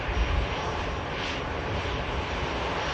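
An EasyJet airliner arrives at Manchester Airport, its engine roar loud and steady throughout, with a broad rushing wash that swells slightly as it passes.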